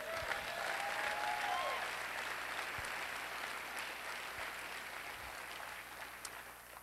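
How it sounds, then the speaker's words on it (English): Audience at an awards event bursting into steady, sustained applause, a dense wash of clapping from a large crowd that fades slowly over several seconds. "That deserves applause, I think."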